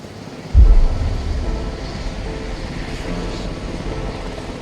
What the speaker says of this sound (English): They call in the Coastguard helicopter to get Sarah to hospital as quickly as possible.